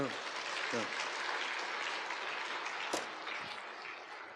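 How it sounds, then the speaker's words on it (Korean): Audience applause during a church sermon, a dense wash of clapping, held steady for a few seconds at moderate volume with a voice faintly mixed in. "박수, 박수, 박수, 박수."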